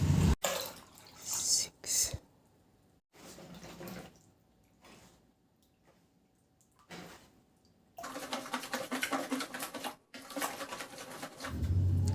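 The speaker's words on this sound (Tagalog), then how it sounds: "Ilagay ko na rin yung 2 cups na asukal at 6 na cups na tubig." Sugar and water go into a mixing bowl of eggs for puto cheese batter, giving bursts of pouring and splashing with quieter gaps in between, the last long stretch of water running louder, with a voice talking over parts of it.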